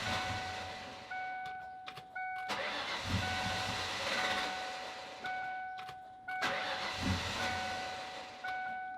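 A Ford Mustang GT convertible with no fuel pressure in the line cranks repeatedly without starting, starter whirring in several bursts separated by short pauses, a warning chime tone sounding over it.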